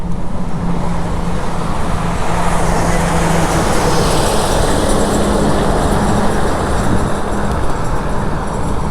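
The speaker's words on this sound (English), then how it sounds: "Come on around, truck. Come on by." A truck passes close by on a road in spring, a loud, steady rumble of engine and tire noise that holds for the full stretch without letup, heard from alongside an e-bike ride.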